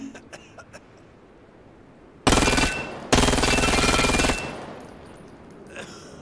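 A UMP submachine gun firing in the VR shooter Vail VR: two sustained, loud automatic bursts close by, the first about half a second long, the second over a second, preceded by faint clicks and handling noises.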